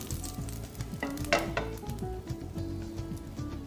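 Fish sizzles and fries steadily in a pan until white and crispy, a dense, close crackle with faint pulsing bubbling and a brief louder spatter.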